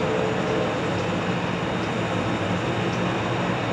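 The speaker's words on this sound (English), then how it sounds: "The hum of diesel engines that you hear, including that one smoking the place up, that's the big undercutter" Steady broadband diesel drone from a big railway undercutter and nearby track machines, one of them smoky and hard to start, a continuous loud hum with no talk.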